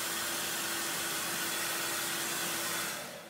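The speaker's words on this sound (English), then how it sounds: "Now what we would do is hit this with a hair dryer just for a second." A hair dryer blows steadily on a watercolor painting, a loud, close, continuous whir with a faint tonal hum that holds for about three seconds before starting to die away.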